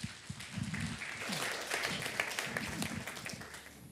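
Applause rises from a church congregation during an evangelistic revival service, a dense, steady wash of hand claps that stays fairly constant throughout.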